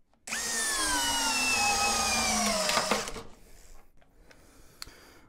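An Ingco cordless impact drill, an 86 newton-meter model, runs loud and close for about three seconds during a torque test, its whine sliding slightly down under load before cutting off to quiet handling noise and a few clicks.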